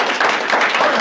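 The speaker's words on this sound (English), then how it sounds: "let's give her a round of applause." At a stakeholder meeting, a brief burst of dense audience applause fills the room, loud and continuous for about a second.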